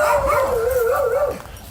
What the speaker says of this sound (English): here come the idiot dogs to bark at the people walking by